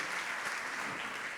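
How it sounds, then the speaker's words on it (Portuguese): A class audience claps in a steady, dense round of applause that fills the whole moment, close and even in loudness. "Palmas pro Cris."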